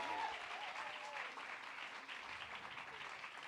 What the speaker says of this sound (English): Give Ronnie a huge round of applause as he joins me on stage.